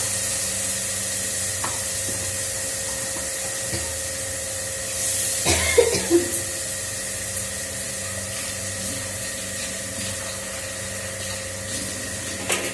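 Spice paste sizzles steadily in a pan, and midway a splash of water hits the hot oil in a brief, louder burst of hissing and spitting before the frying settles back to a low crackle.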